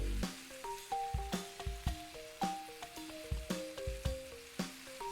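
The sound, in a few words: beef browning and sizzling in a pan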